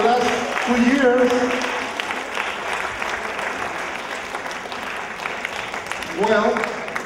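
An audience at a World Social Forum session breaks into sustained applause, steady clapping throughout with voices calling out over it at the start and again near the end.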